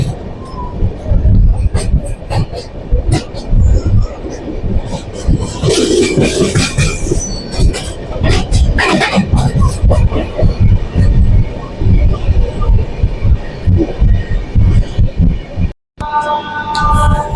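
The Howrah Mumbai Mail, an Indian Railways express, rumbles along with a loud, continuous roar and rattling clatter of wheels on track heard from onboard, while a voice talks over it.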